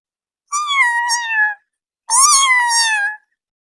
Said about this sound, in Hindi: बस से उतरते ही यहाँ रास्ते में मिल गई हमें एक क्यूट सी बिल्ली।